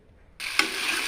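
Food frying in a pan starts abruptly after a moment of near silence, becoming a steady close sizzle with one sharp spatula scrape as it is stirred.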